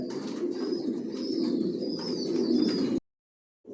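Adult racing pigeons coo in low, throaty murmurs, several birds overlapping close by, with faint higher chirps above; it cuts to silence near the end.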